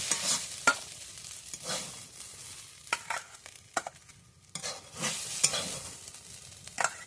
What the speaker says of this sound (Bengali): আমি এটাকে ভালো করে একটু শুকিয়ে দেবো নেড়ে চেড়ে।